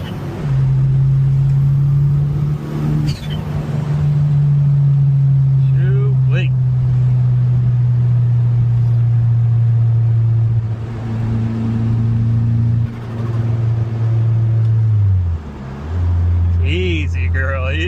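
A Suzuki GSX pulling hard on a public road, its engine droning steadily and climbing through long gear pulls with brief drops at shifts, close and loud, with someone speaking over it.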